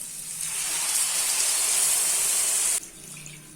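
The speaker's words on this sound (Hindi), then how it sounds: "अभी इसमें 2 कप पानी ऐड कर देते हैं" Water pours in a steady hissing stream into a pot of mutton paya curry for about two seconds, then stops abruptly, leaving a quieter background.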